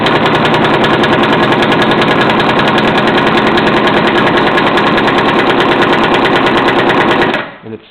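An Ingersoll Rand 2135 TiMax air impact wrench tightens a fastener, giving a loud continuous rapid hammering rattle that runs steadily for about seven seconds, then cuts off abruptly.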